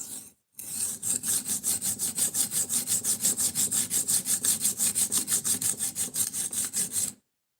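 Steady back-and-forth strokes of a knife blade across a sharpening stone while a burr is raised, a close, even rasping rhythm of about thirty passes with no talk.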